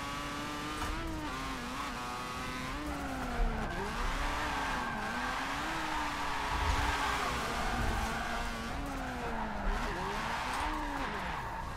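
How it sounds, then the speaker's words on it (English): Car drifting in Forza 7, engine revving in rising and falling sweeps while tires squeal through the slides, steady and close with no voices. "I feel like we could still drift here in 7."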